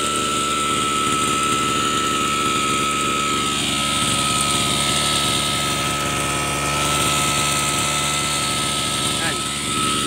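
Close and loud, a Mitsubishi TU33 33cc grass cutter engine fitted with a turbo drones at a steady high pitch, with a faint whine sweeping through, while someone talks over it.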